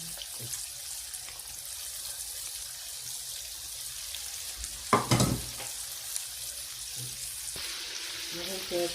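Cheese-stuffed shawarma balls frying in hot oil, a steady crackling sizzle, with a louder burst of bubbling and splashing midway as food goes in, then a faint clink.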